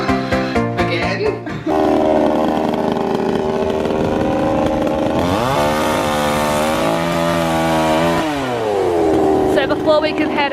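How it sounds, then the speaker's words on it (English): A chainsaw trimming tree branches, revving loudly and close with a sustained buzzing whine that dips and rises as it cuts, preceded by brief voices and clatter. "Before we can head out in the caravan, we have to trim the branches."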